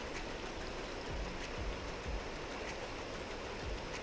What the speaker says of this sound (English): as you can see, looks like there's the rapids